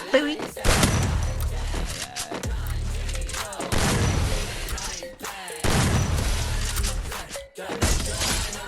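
Gunfire in the Free Fire battle game comes in loud, rapid bursts with heavy booming shots, repeated in several clusters separated by brief pauses.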